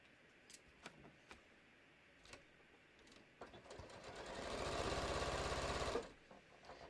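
A sewing machine stitches a bucket hat, a few isolated clicks and taps giving way to a steady, loud mechanical whirr that runs for about two seconds before stopping abruptly, followed by quiet handling.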